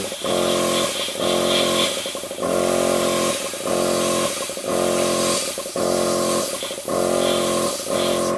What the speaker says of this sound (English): I don't know why my bloody compressor does that.